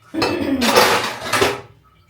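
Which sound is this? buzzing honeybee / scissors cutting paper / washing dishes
washing dishes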